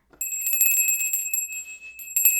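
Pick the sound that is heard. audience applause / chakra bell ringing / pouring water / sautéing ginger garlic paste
chakra bell ringing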